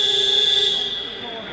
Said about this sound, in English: So that buzzer signals the last few seconds of the break before the start of the final quarter.